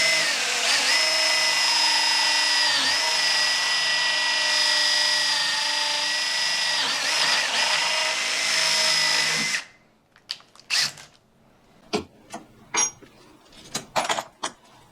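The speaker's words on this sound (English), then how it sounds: "then drill that pole position" A power drill whines steadily and loudly while boring a hole in a wooden chair-making jig, then cuts off, followed by several sharp knocks and clatters of wood and tools.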